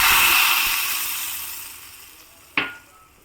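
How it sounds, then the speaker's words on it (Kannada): Mustard seeds and asafoetida sizzle in hot coconut oil while being tempered for a traditional Udupi Brahmin-style huli. A loud hiss fades steadily, then a brief metallic clatter brings a short fresh burst of sizzling. "ಈಗ ಸಾಸಿವೆ ಕೊಬ್ಬರಿ ಎಣ್ಣೆ ಇಂಗು ಹಾಕಿಬಿಟ್ಟು ಒಗ್ಗರಣೆ ಹಾಕ್ತಾಯಿದ್ದೀನಿ"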